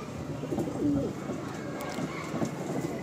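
Pigeons in a loft give soft, low cooing phrases, one clearer call near the start and fainter ones later, mixed into a busy murmur of other birds.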